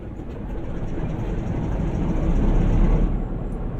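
A locomotive engine starts up in Train Sim World on the Northern Trans-Pennine route, a broad, rumbling roar that swells steadily louder before easing slightly, heard alone without talk.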